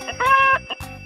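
A cartoonish chicken clucking sound effect: a few short, bright clucks in quick succession with a longer sustained squawk in the middle, close and clear with no talk over it.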